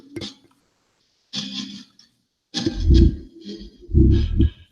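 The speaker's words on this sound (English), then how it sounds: "Memorex 2 Extreme old cassette player that I hacked." A hacked old Memorex 2 Extreme cassette player used as a ghost box gives off bursts of choppy, scratchy noise and garbled fragments, rising and falling in uneven chunks at moderate loudness.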